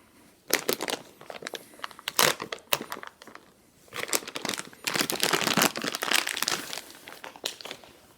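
Plastic wrapping around a contour pillow crinkles and crackles as it is cut and pulled open, close-up bursts of crumpling with brief pauses, no voices.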